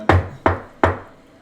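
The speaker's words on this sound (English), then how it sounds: "you hear a knock at the door you had just come through" Three firm, evenly spaced knocks on a door, sharp and close with short decays, played alone with no voices.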